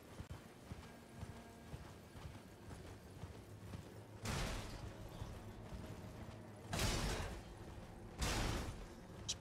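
Rhythmic clip-clop of horse hooves trotting steadily in a Souls video game, with a few louder bursts of rushing noise cutting in, moderately close.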